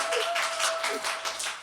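An audience claps at a church worship service, a short burst of dense, steady applause with a voice briefly heard over it.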